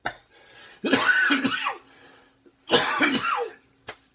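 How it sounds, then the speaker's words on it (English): Two harsh coughs about two seconds apart, each a rough burst with a raspy tail, close and clear, followed by a faint click. "I will eventually get rid of this cough."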